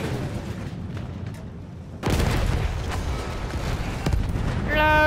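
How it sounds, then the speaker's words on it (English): Artillery explosions in Battlefield 1 on a muddy battlefield: a sudden heavy boom around two seconds in lifts the din of combat, with further blasts and rumbling underneath, loud and dense. "they're raining more artillery in the last 3 positions"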